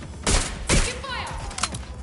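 Two loud bursts of gunfire from Watch Dogs Legion, each a short sharp blast about half a second apart, followed by quieter game effects and a faint trailing report.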